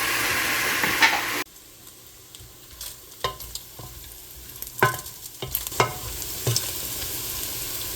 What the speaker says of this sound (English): We'll put the bacon. Let it sit there until the fat came out.